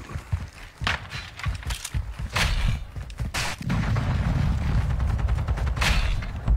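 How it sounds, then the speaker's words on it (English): Video game firefight during a precision airstrike: rapid bursts of gunfire and heavy thumping impacts, followed by a sustained rumbling barrage of explosions, loud and close. "Secure the area. Precision airstrike."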